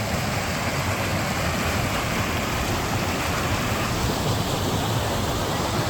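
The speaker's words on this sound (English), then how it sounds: "we're just trying to get to that point where we could actually see the water coming down" A waterfall on Scotland's North Coast 500 route gives a constant, dense roar of falling water, loud and unbroken throughout, with no voices.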